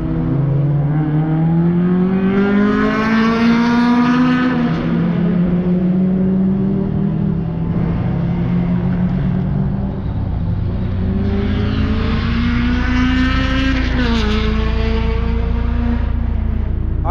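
A Mazda MX-5 lapping a race track, the engine heard from onboard, loud and continuous, rising through the revs, dropping on shifts and braking, then climbing again.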